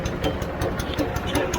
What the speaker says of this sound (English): You gotta love Honda engines. I gave it one pull and it fired right up.